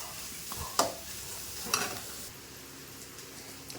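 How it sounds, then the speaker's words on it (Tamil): Onions, green chillies, garlic and ginger sizzle and fry in a pan with a steady hiss, punctuated by a couple of scraping stirs of a spoon, fairly quiet and close. "வெங்காயம் பச்சை மிளகாய் பூண்டு இஞ்சி எல்லாமே நல்லா கலர் மாதிரி நல்லா வதங்கிடுச்சு"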